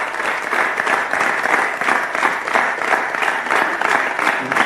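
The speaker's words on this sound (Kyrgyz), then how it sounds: "Дүркүрөгөн кол чабуулар менен мейманыбызды узатып койсок." A television studio audience gives a departing guest a sustained, dense round of applause, loud and even throughout with no voices over it.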